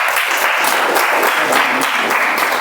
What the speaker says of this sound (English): let's give a good round of applause to each and everyone